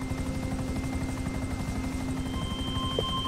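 A helicopter flies in the video game GTA 5, its rotor chopping in a steady, close, continuous drone for the whole stretch, with no voices over it.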